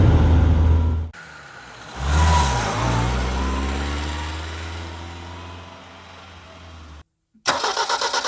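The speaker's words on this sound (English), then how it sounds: "The four-cylinder engine with two carburetors has a power output of 86 PS and runs beautifully." A Toyota Celica ST 1600 four-cylinder engine with two carburetors cranks and catches, then settles from a revving rise into a smooth idle before a brief cutoff and a sharp restart, heard close with no talk.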